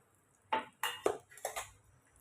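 Small shallots, garlic and ginger tipped into hot oil in a pan for a village-style bean and dried fish curry, landing as four quick clattering knocks and rattles against the metal, close and fairly quiet, with no talk.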